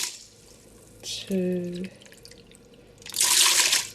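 Water is poured from a cup into a pot of lentils for a stew, in two gushing pours separated by a pause, while a woman counts aloud.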